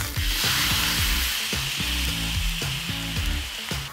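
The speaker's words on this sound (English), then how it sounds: "keep stir frying this for a minute or so until that sauce thickens up" Chicken and sauce sizzle and hiss in a hot pan while being stir-fried, with a constant frying crackle and rhythmic low scraping knocks of a utensil against the pan.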